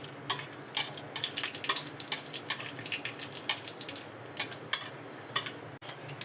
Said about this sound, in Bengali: একটু ফোড়ন দিলাম।